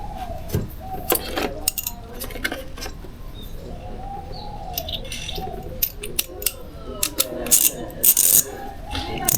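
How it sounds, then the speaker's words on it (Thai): A ratchet wrench undoing bolts on the DISA valve of a BMW E46 with an M52TU engine, sharp metallic clicking bursts in quick runs with pauses, close, over faint background noise. "จะใช้ชุดประแจเล็กนะครับเบอร์ T40 ขัดออก"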